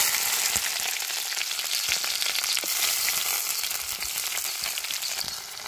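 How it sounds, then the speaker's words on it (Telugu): Onions, green chillies and curry leaves fry in hot oil, giving a steady, close sizzle with scattered crackles and pops throughout. "ఆయిల్ అయితే వేడింది కదా, ఉల్లిపాయ పచ్చిమిర్చి అయితే ఫ్రై చేసుకున్నాం"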